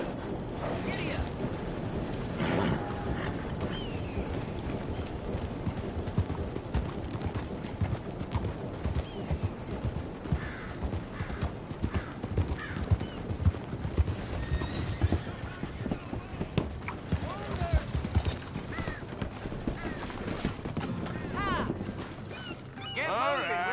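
Hooves of a horse in Red Dead Redemption 2 drum in a steady galloping clip-clop, close and continuous, with snorts, tack rattle and a rider's voice speaking over the running hoofbeats.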